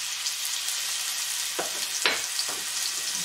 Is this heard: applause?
no